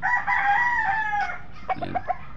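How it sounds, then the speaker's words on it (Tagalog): A rooster crows loudly and close, a drawn-out call followed by a few short clucks. "For sale po yung kanyang manok dito."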